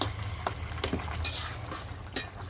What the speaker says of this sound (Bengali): এখন আমার তরকারিটা, লাউ তরকারিটা আমি এখন নেড়ে চেড়ে দিচ্ছি